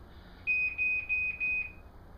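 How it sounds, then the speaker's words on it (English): A Ryobi sensing alarm gives four short, steady high-pitched electronic beeps in quick succession, loud and close, with nothing else heard. "That's the alarm."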